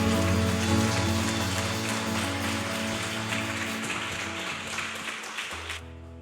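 A church congregation claps together in dense, sustained applause over held music tones, gradually fading before stopping abruptly near the end.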